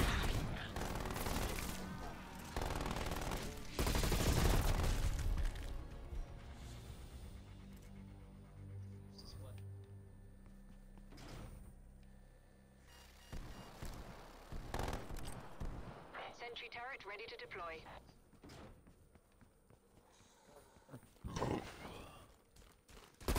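Automated sentry turret in a zombie shooter video game firing loud, dense bursts of gunfire at the start, which give way to scattered game noises and thinner shots later on.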